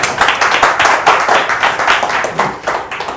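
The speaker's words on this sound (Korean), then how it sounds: "박수 부탁드립니다." Seminar audience applauding in a room, loud, dense hand clapping with a steady rhythm throughout, no voices over it.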